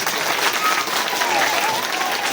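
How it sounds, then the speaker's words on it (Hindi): Audience at a school National Girl Child Day event in a girls' senior secondary school breaks into loud, sustained applause, a dense continuous patter of many hands clapping with faint crowd murmur. "जोरदार ताली बजाओ"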